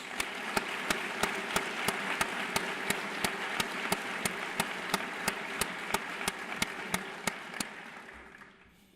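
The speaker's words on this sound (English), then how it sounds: "Let's give those two chiefs a round of applause." An audience at a fire department graduation ceremony applauds two fire chiefs, steady massed clapping with a regular, sharp beat running through it, sustained for several seconds before tapering off near the end.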